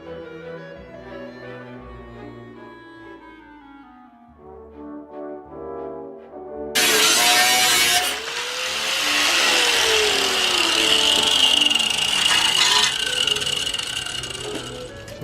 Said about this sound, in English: I gotta go ahead and cut up the other fender right now